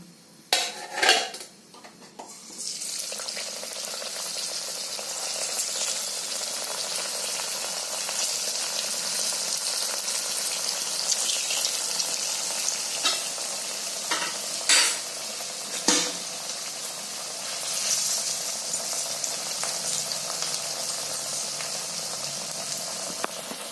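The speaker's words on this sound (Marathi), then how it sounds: "आता मी तळते तेलात सोडते" Pieces of alu vadi frying in hot oil, a loud steady sizzle that starts after a couple of initial clatters and runs continuously, with occasional utensil clinks, close up.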